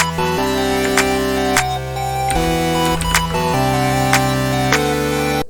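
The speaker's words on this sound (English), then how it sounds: "I'm just going to choose a pretty generic clap." A generic electronic clap sample repeats in a simple bouncing pattern over sustained synth chords and bass, making up a dark, repetitive electronic beat with no voices.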